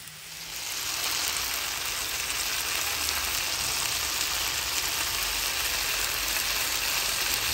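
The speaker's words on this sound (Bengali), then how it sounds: "আমি এখন একসাথে মশলাটাকে কষিয়ে নিচ্ছি" Spices with cumin fry in a single pan for a thin fish curry, giving a loud, steady, close sizzle that swells in at the start and then holds without a break.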